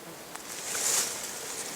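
A bee buzzing around hemlock flowers in a marshy outdoor spot, a faint, steady hum up close with a light rustle.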